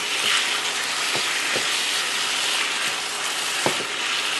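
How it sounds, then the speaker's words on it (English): Chopped onion stirred into browning ground beef for stroganoff, a dense steady sizzle in a pan with a few soft spoon knocks and scrapes, no voices. "we're going to add our onion and stir that in"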